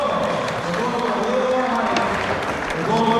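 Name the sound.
crowd applause at metal bending strongman event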